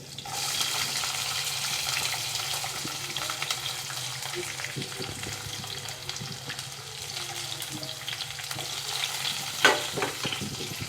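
Onion added to peanuts and garlic frying in a pan for khichdi gives a steady hiss and crackle, with occasional stirring knocks and one louder clatter near the end, heard close with no speech.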